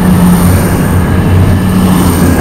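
An East Midlands passenger train passing through a station, with a loud, steady rumble of wheels and running gear that holds close throughout, without speech.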